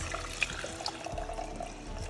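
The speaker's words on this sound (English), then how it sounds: "I'm just going to pour it in like that" Herbal tea trickling and splashing steadily through a strainer into a container for about two seconds, close and moderately quiet, with no voices.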